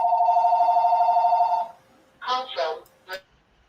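A telephone rings in a steady warbling burst for over a second, followed by short bursts of a person talking, the ringing of a spam call coming in close and clear.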